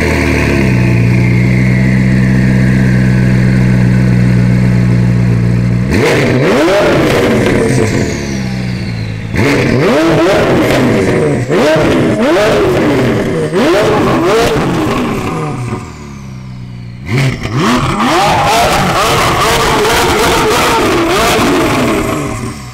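McLaren 570S turbo engine being started and revved: a loud starter whir and idle, then repeated sharp throttle blips with rising and falling revs, separated by brief pauses, close and forceful.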